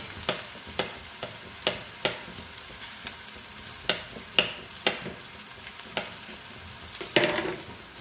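Chopped garlic and beans sizzle in a hot pan while being stirred, sharp spoon-on-pan scrapes and clacks recurring at a brisk irregular rhythm over continuous frying hiss, close and without speech.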